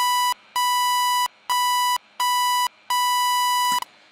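A Native Instruments Massive synth plays a stepper riff with frequency modulation switched off, producing five bright, buzzy tones in a choppy on-off pattern of uneven lengths, dry and alone.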